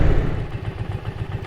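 A motorcycle engine thrums close by, a steady low rumble with rhythmic pulsing throughout and no voices.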